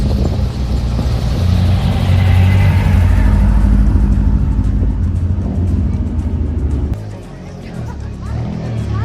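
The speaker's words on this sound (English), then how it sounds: "It's loud, isn't it? The Peugeot." A Peugeot rally car at the Speyside Rally scrutineering, its engine revving loudly and close for several seconds with a rising roar, then dropping away to lower rumbling; voices can be heard beneath the engine noise.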